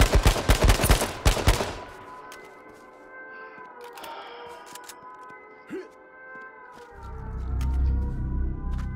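Gunfire in a shooter video game: a quick burst of loud, closely spaced shots opens the moment, then fades into quieter game sounds with a few faint pops.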